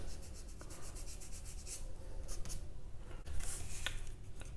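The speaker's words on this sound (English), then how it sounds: "Just scrubbing it like that, not scrubbing exactly, just going across like that." Paintbrush dragged across a textured painting surface for a landscape, soft rasping strokes repeating in short sweeps, quiet and close with no voice.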